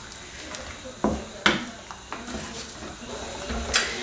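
Bolognese sauce with drained tinned sweet corn being stirred in a pan, with scattered spoon scrapes and clinks against the pan over a soft sizzle, moderately close.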